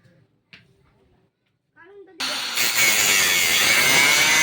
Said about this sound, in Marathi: ग्राइंडर लावते आता इथं.